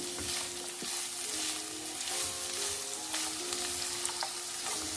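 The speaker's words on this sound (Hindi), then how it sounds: "और 2 गाजरों को काट कर मैंने इसमें ऐड किया है और यूँ इसको अच्छे से फ्राई कर लेंगे।" Chopped carrots frying in hot oil for Kabuli (Afghani) pulao: a dense, constant close-up sizzle with light stirring scrapes, steady throughout and free of any voices.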